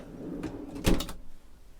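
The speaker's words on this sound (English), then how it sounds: "So that's just a little drawer fridge like that." A small drawer fridge aboard a 2016 Trusty T23 motor yacht slides shut with a single soft thud and a brief rattle, close by in an otherwise quiet cabin.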